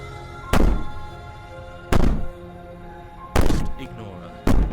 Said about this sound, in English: Maybe the banging and wailing will stop if you just don't pay attention to her.